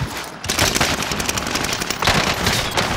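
Dense automatic gunfire in a video game rattles out in rapid, loud, continuous bursts with no pause.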